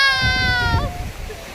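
A small child at the beach cries out in a brief, high, wavering wail that breaks off midway, with surf noise rumbling underneath.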